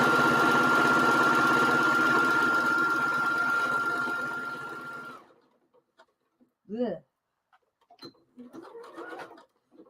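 A sewing machine stitching seams on a handmade grocery bag whirs in a steady, fairly loud run for about five seconds, then stops, leaving near silence broken by short faint clicks and a brief voice.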